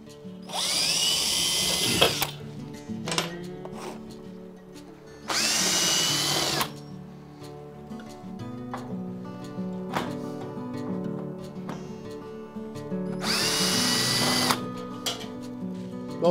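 A cordless drill runs in reverse, backing screws out of a Weber One-Touch kettle grill in three short, loud whirring bursts, with quieter clicks and handling noises in between.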